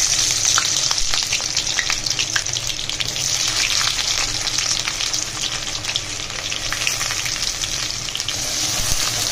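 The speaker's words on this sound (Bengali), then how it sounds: "এখানে সরিষার তেল দিয়ে নিলাম কড়াইতে, গরম করে পেঁয়াজটা একটু বেরেস্তা করে, বেরেস্তা মতো করে লাল লাল করে ভেজে নিব।" Onions frying in hot mustard oil in a wok, browning toward a crisp golden finish: a loud, steady, dense sizzle fills the whole stretch with constant crackling and no voices.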